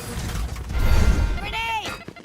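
A weapon reloads in a tactical shooter match with a short mechanical sequence of clicks, ratcheting and a metallic slide, brief and close, over low game ambience.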